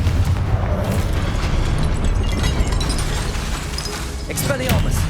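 A Confringo fire spell blasts in Hogwarts Legacy amid a dense, continuous roar of combat noise and music, with a low rumbling boom under the din and game voices around it.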